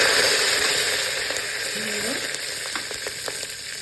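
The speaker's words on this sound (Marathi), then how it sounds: "आणि आता त्याच्यामध्ये तूप टाकलं गरम केलं आणि आता तडका करूया मोहरी टाकली हिरवी मिरची कढीपत्ता" Mustard seeds, green chili and curry leaves hit hot ghee in a steady, close sizzle with a few sharp crackles and pops near the end.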